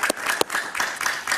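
A studio audience on a Spanish-language TV talk show claps to welcome guest Sergio Escobar, a brief stretch of dense applause with a few crisp standout claps, close and fairly loud.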